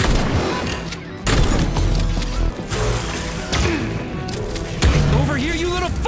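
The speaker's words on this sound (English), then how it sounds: "shotgun" Shotgun blasts and other weapon fire from the video game Atomic Heart, loud and dense, with heavy thuds and mechanical clatter layered under game voices and a busy combat mix.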